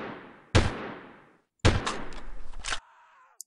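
Gunfire in the video game Delta Force 2: two sharp, loud shots about a second apart, each followed by a decaying echo, the second trailing into a short ringing tail and a faint click.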